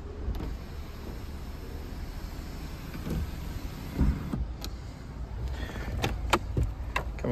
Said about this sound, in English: Fully functional sunroof, so it tilts and slides